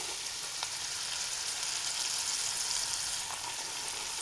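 Meat and lentils frying in a pan, with a steady soft sizzle and faint crackles, continuous and fairly quiet, no talking.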